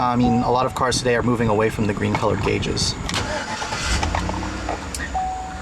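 GM's 5.3-liter V8 in a 2013 Chevrolet Tahoe turns over and settles into a steady idle, running continuously beneath someone talking close by.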